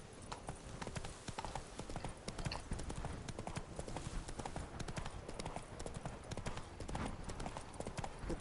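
Hooves of Roach, Geralt's horse, clip-clop steadily along in The Witcher 3: Blood and Wine, a quick continuous rhythm under game ambience with a faint voice partly audible.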